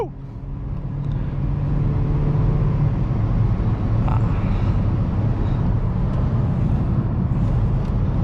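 A 2008 Honda Civic LX with a 4-cylinder engine accelerates hard, heard from inside as a loud, steady engine drone rising over road noise, with a brief cheer from the driver at the start.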